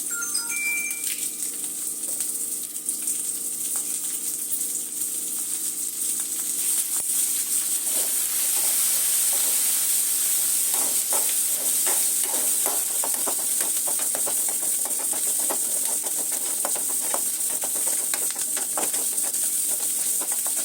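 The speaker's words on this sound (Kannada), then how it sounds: "ಈರುಳ್ಳಿ ಚೆನ್ನಾಗಿ ಫ್ರೈ ಆಗಿದೆ" Garlic, ginger, small sambar onions and green chillies frying in a pan for a sardine curry, giving a steady, bright hiss that carries on unbroken for about twenty seconds, close and fairly loud, with no voices.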